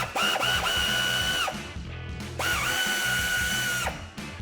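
A power drill whirs loudly as it backs out fasteners on a 2019-2024 RAM 1500 front bumper during an install, running in two close bursts that each wind up, hold steady, then spin down.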